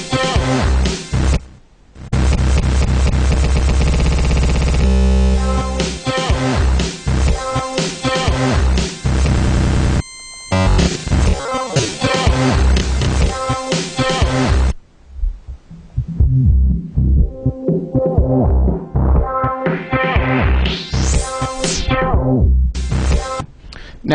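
Looping electronic music from a Korg Kaossilator Pro with built-in effects sweeping over it, dense beats and synth layers playing loud throughout, with brief dropouts and a rising filter sweep near the end.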